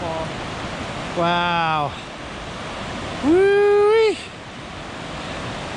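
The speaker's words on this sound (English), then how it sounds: "looking at this gorgeous waterfall" A waterfall near a backcountry campground roars steadily and loudly throughout, while a person gives two drawn-out exclamations over the rushing water.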